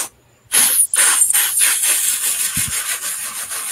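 A person's voice imitates a steam train, a rhythmic series of breathy hissing chuffs repeating steadily at close range after a brief quiet start.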